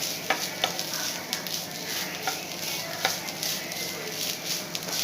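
Grated coconut being stirred in a hot pan while it fries for neyyappam, giving a steady soft sizzle broken by a few sharp scraping taps of the spoon, close up with no talking.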